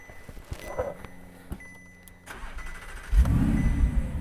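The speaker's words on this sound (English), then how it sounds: "Start it up, we get the nice V8 sound." An exotic car's V8 engine cranks and fires up with a traditional key, a few faint clicks before the starter catches and the engine roars loudly to life close by, then settles into a rumbling idle.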